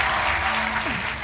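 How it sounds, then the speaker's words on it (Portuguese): A TV quiz show studio audience applauds steadily in a short, even burst of clapping, with a faint voice underneath. "Um aplauso para o Manuel, é o nosso campeão."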